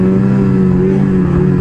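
A snowmobile engine on its first ride of November, running on fresh gas, holds a loud, close, steady drone with a strong low hum throughout.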